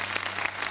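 Studio audience on a Pakistani Ramadan TV show claps to welcome guests, a short dense patter of applause cut off within a second.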